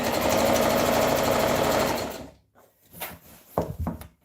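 A sewing machine stitches a gathered skirt in a fast, steady run for about two seconds, then stops, followed by a few light handling knocks and clicks.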